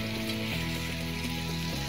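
Egg rice with homemade garam masala and chopped egg sizzles in a pan, a steady close frying hiss with a low humming tone beneath.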